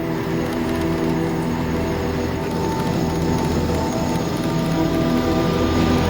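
An Airbus A380 airliner in flight at about Mach 0.89, close to the sound barrier, makes a steady, loud, broadband roar that holds without a break and with no talk.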